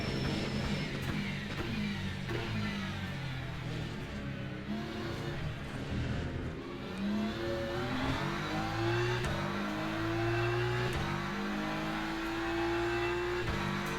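Race car engines in the video game Le Mans Ultimate, revving hard and climbing through gear changes during an overtake, a loud continuous whine with rising pitch sweeps and no talk over it.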